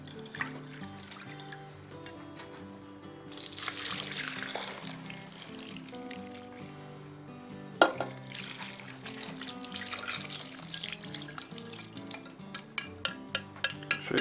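A thick venison stew mixture is poured and scraped into a crock pot, a wet sloshing pour with clattering utensil knocks and clinks near the end, close up and alone without talk.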